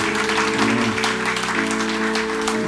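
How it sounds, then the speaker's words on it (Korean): A congregation at a Korean Sunday church service claps in thanks after a hymn, sustained applause mixed with lingering instrumental tones, filling the sanctuary without any talking. "하나님께 감사와 찬양의 박수 영광 돌리겠습니다"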